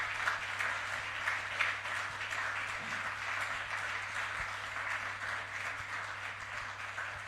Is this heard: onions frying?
no